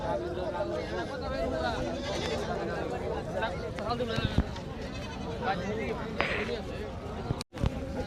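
Goats of breeds such as Deshal and Black Bengal bleat at a large goat market in Melandaha, Jamalpur, a few calls rising over a steady crowd hubbub of people talking and bargaining.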